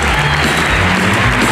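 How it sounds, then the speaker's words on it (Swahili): Applause for the women at a bishop's commissioning ceremony in Kasarani Stadium, a steady wash of clapping from a large crowd, continuous and fairly loud, with a crowd murmur beneath it. "mama zetu tuwapigie makofi"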